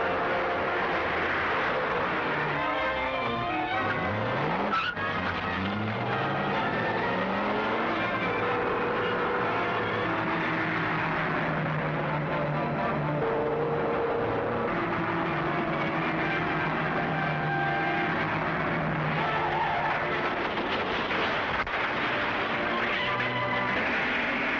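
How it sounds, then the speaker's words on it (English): A speeding car in an old radio serial scene, its engine roaring and shifting pitch continuously as it tries to force another car off the road, with a sustained, dense rumble throughout. "Jump in the car and drive him off the road."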